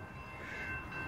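SEPTA train 3596 passing a railroad crossing on Lower State Road toward Doylestown, a steady distant rumble with a sustained horn-like tone, no voices.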